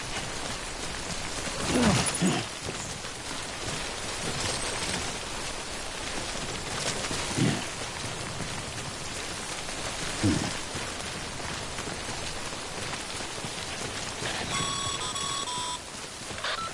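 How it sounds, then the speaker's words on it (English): Timefall rain in the video game Death Stranding, a steady soft hiss of falling drops throughout, with a few brief louder bursts and faint electronic beeps near the end. "Remember that prolonged exposure to timefall damages cargo containers. Don't stay out in the rain any longer than you have to."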